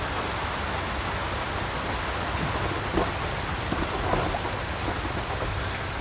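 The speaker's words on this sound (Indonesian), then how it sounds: "Hujannya malah ngegas nih hujannya nih." Heavy rain pours outdoors during a fishing trip, a dense, steady wash of hiss with scattered louder drops and splashes throughout, no voices.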